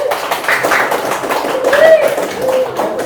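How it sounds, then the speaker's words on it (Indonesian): A primary school classroom claps for a student, a lively patter of small hands heard under children's voices and chatter. "tepuk tangan untuk Kasen"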